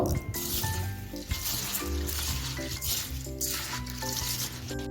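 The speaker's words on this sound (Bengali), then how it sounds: "এখন আমি চালটা ভালো করে তিনে থেকে চারবার জল বদলে বদলে ধুয়ে নেব" Rice being washed by hand in water for a matar paneer pulao, with the water changed several times: continuous close splashing, swishing and sloshing, broken by brief clinks and pours.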